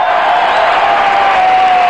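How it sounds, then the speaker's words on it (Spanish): Audience applause after a performance at a ministers' swearing-in ceremony; dense, steady clapping fills the hall with a sustained tone held over it. "¡Fuerte los aplausos!"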